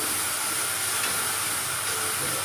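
Tomatoes frying in oil and ghee for a masala, a dense, continuous hissing sizzle held at a constant close level.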